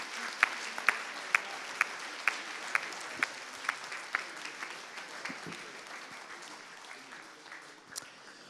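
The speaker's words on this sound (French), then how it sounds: "vous allez pouvoir vous applaudir très fort" An audience at a Lille climate-plan committee meeting claps in slow, evenly spaced unison beats at first, then breaks into looser, thinning applause that fades, heard at a moderate distance.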